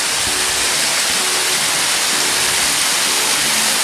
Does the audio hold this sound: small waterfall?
yes